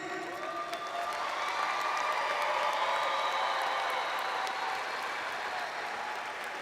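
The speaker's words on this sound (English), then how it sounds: "Another big round of applause for them." Graduates at a STEM early college high school ceremony receive a big round of applause, steady crowd clapping mixed with cheers and whoops, continuous and fairly loud throughout.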